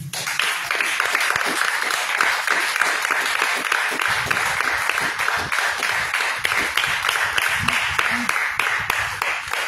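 A church congregation claps for the Lord in dense, continuous applause that stays loud and even throughout, with faint voices mixed in.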